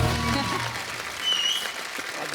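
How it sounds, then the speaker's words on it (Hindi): An audience applauds the performers on a comedy show stage, a dense, steady wash of clapping that stays fairly loud and even, with some speech mixed in. "जोरदार तालियां हमारे सारे कलाकारों के लिए।"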